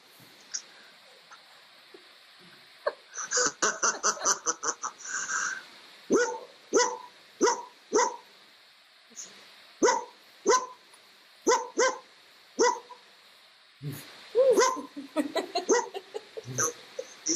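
A dog barks in a run of sharp, loud, close barks, some clustered quickly and others spaced out, going on for more than ten seconds in a quiet room with almost no speech.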